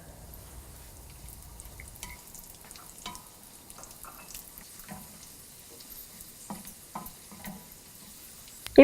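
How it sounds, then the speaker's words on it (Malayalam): Nuts and raisins roasting in a pan for jackfruit payasam, giving a low, steady sizzle with soft stirring scrapes and scattered small pops and clicks, close and fairly quiet with no talking. "ഇതിലോട്ടിനി നമ്മൾ എടുത്തു വച്ചിരിക്കുന്ന റേസിൻസും കൂടിയിട്ട് റോസ്റ്റ് ചെയ്യുക"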